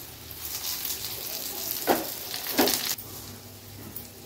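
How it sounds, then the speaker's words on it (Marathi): Soya chunk kebabs fry in a shallow layer of oil, giving a continuous soft sizzle with a couple of brief louder bursts of crackle, close up with no talking. "आता मागची बाजू अशी 7 ते 8 मिनिटांसाठी फ्राय करून घ्यायची आहे"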